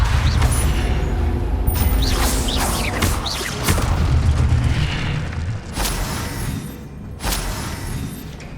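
Spell effects from the video game Hogwarts Legacy, Incendio then Levioso, booming magical bursts with rumbling, creaking mechanical textures and a few sharp cracks, loud and continuous with no talk.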